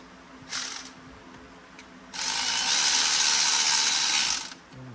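A ratchet tightens a 10 mm bolt on a Cravenspeed short shifter in an ND Miata, giving a brief clicking burst followed by a longer, steady run of loud, close ratcheting.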